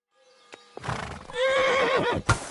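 A horse in the video game Kingdom Come: Deliverance II lets out a loud, quavering neigh that rises and falls, with a few hoof clops and rustles before and after.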